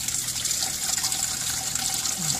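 GoatThroat pump dispensing liquid from a drum produces a continuous gushing, filling sound of flowing liquid, steady and moderately loud throughout.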